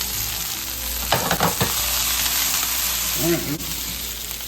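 Chicken sizzles steadily in a pan while being cooked until lightly browned for curry chicken over rice, with a cluster of scraping stirs early on and a short spoken word partway through.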